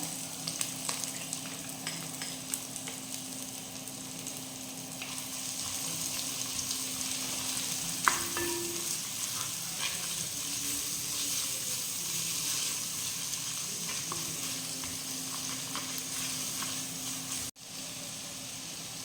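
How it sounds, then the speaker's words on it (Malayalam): Ginger, garlic and shallots sauté in a pan for a fish curry, giving a steady close sizzle with a brief clink of the utensil partway through and no voices. "ഇഞ്ചി വെളുത്തുള്ളി ചോപ്പ് ചെയ്തത് ചുവന്നുള്ളി ഒരു പത്ത് പീസോളം കരിഞ്ഞ് വെച്ചത് എന്നിവയിട്ട് വഴറ്റാം"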